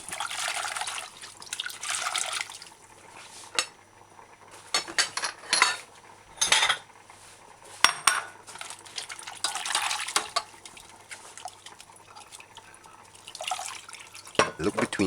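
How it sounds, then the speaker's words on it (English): Broccoli florets being swished and washed in a bowl of water, irregular splashing and trickling with bursts of sloshing and drips, close and fairly quiet, with a voice speaking over parts of it. "add the florets to the water and wash your broccoli properly."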